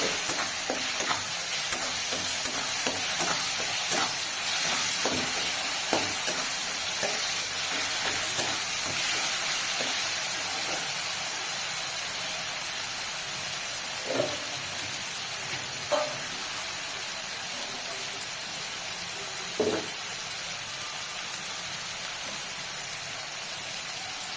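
Garlic and green chili paste frying in a pan, a continuous bright hiss and sizzle throughout with occasional stirring scrapes and clicks, fairly loud and close, with no talking.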